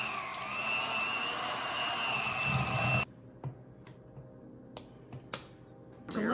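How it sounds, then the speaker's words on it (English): A hand mixer whirs loudly for about three seconds while blending cream cheese and butter, then cuts off, leaving scattered clicks and taps of the beaters against the bowl before the motor starts again at the end. "I'm going to use my hand mixer to begin blending this"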